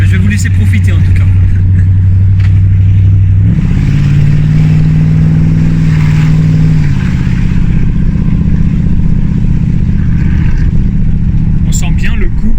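A 1979 Chrysler Cordoba 300 with a 5.9-liter 200 hp V8 cruising on the road, heard from inside the car as a loud, steady low engine drone that steps up in pitch as it shifts through gears.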